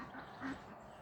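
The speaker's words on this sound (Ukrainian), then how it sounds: "Качки з гусьми гягають." A brief quack from a duck, fairly distant, rises once over a steady low rural morning rumble, with ducks and geese nearby.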